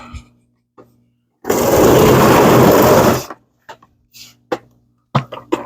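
A small Milwaukee cordless drill whirs at full speed for under two seconds while countersinking for vanity drawers, loud and close, followed by scattered clicks and handling knocks.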